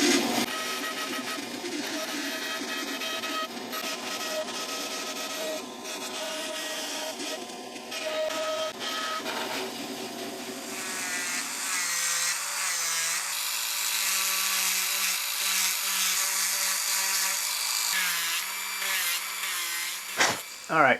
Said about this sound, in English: cutting this out is going to be no fun with this giant blade.